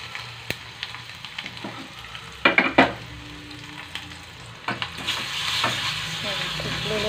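Asafoetida and crushed garlic sizzle in hot oil over a low flame, a steady crackling fry with stirring scrapes and a few clanks, growing louder and brighter toward the end.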